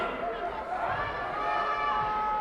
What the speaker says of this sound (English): Crowd doesn't like anything that's happening right now.